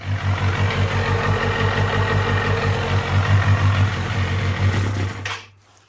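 A 1990s Kawasaki ZXR250 four-cylinder motorcycle, fitted with new plugs, caps and leads after a misfire, idles loud and steady up close before the engine abruptly cuts out near the end.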